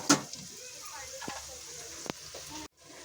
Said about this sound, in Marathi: तर कांदा आपल्याला शिजून घ्यायचा चांगला